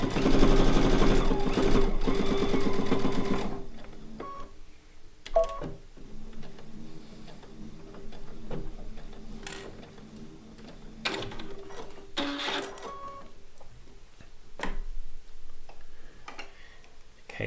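A sewing machine stitches the seam of a fabric bowl cozy, a close, steady run of rapid needle ticking for a few seconds, then stopping, followed by quiet fabric handling and scattered clicks.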